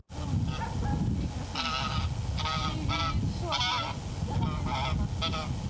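A goose that lives among people in a Rivne-area village honks repeatedly, a series of loud nasal calls in irregular bursts, close to the listener over a steady background hum.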